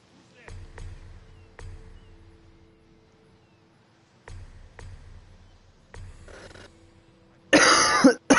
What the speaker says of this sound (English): I do apologise for the constant coughing.